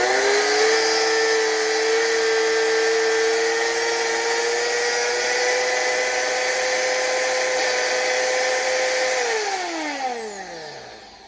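A repaired Milwaukee 6148 grinder runs loud and close with a steady high whine for several seconds, then is switched off and its pitch drops as it spins down.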